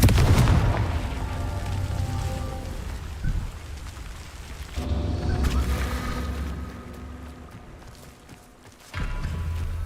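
Confringo explosion spell cast in a Harry Potter video game: a crackling, rumbling blast that surges in three waves with sharp onsets, its hissing, rain-like tail filling the gaps between bursts.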